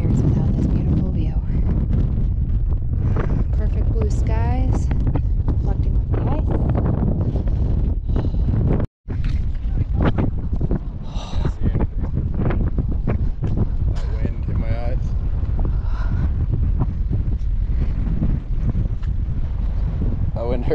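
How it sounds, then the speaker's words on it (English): Strong wind at the Antelope Island lake shore buffets the microphone in a constant loud roar with gusting rumble, briefly cutting out midway. "That wind is bone chilling."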